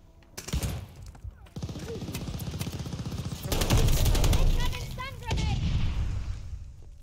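Call of Duty: Vanguard gunfire in repeated automatic bursts and heavy blasts, loud and close, with a player's voice briefly audible between the shots.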